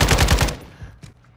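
Kastov 762 assault rifle firing in Call of Duty Modern Warfare 2: a tight burst of about five rapid, punchy shots in the first half second, followed by quieter mechanical clicks and a faint rattle.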